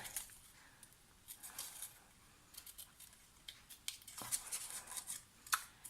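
Scissors cutting out card paper for a mini exploding card box, a series of close, crisp snipping strokes in short irregular bursts, some slicing runs and quiet pauses between them.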